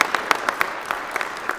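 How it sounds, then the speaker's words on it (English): A brief burst of clapping from a small group, a quick run of sharp claps for just over a second. "Feel free to clap at any time."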